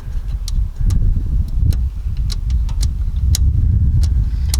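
Small sharp clicks from adjusting the damper setting on a BMW E36 coilover sound in an irregular series, faint above a steady low engine rumble nearby.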